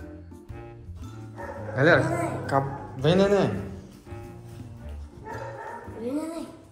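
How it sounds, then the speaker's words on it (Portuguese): Angry dogs bark in a few loud bursts, with yips and whimpers mixed in, while a person nearby calls out to them over the noise. "Olha os cachorros bravos."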